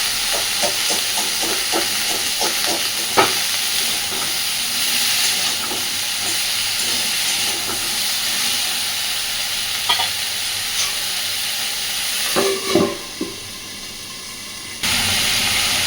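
Potatoes and cauliflower fry in a pan with a steady sizzling hiss, punctuated by scattered clicks and scrapes of stirring that grow busier near the end, with no voices.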